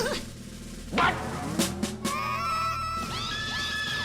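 A puppy gives a few short, high yelps and barks in a domestic comedy scene, with other indistinct sounds and tonal background noise around it.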